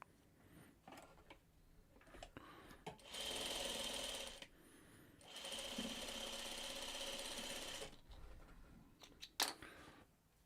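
Sewing machine stitching fabric in quick bursts, a steady whirring run of a second or so, a pause, then a longer run of about two seconds, with faint handling clicks around it.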